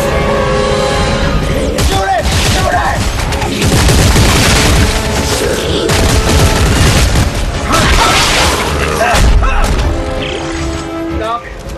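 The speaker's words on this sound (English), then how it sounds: "I just shoot in little people" Gunfire in the video game Dead Space 3 as enemies are shot, a dense, loud run of booming blasts and crashing impacts that continues nonstop, with voices mixed into the game noise.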